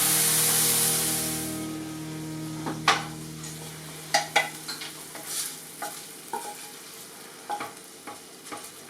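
Food sizzles and fries steadily in oil in a pan while being stirred for a stuffed pork loin, with a hissing bed underneath and irregular scraping clicks of the utensil against the pan.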